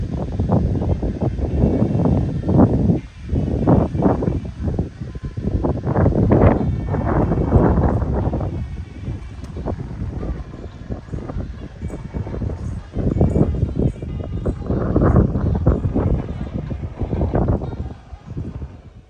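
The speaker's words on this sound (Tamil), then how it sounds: "இந்த பேக்ரவுண்டு சத்தத்தை கேளுங்க எந்த மாதிரி ஒரு காற்று எவ்வளோ வேகமாக அடிக்குது பாருங்கள்" Strong wind gusts batter the microphone at the hilltop Thirumalai Kumaraswamy temple near Panpozhi and Sengottai in the Western Ghats, roaring in loud, uneven rushes that swell and ease.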